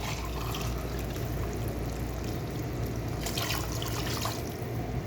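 Water pours steadily into a pot of yakhni stock for pulao, a continuous close splashing gush at even strength with no talk.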